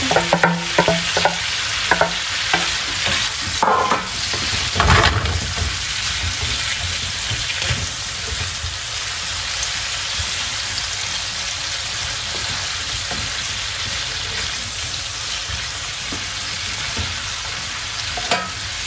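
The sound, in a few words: mushrooms being fried and stirred in a pan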